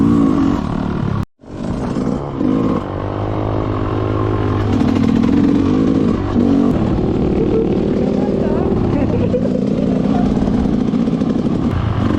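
An enduro motorcycle revs hard at full throttle on a mountain trail, a loud sustained engine roar close by after a brief cutout near the start, with people talking over it.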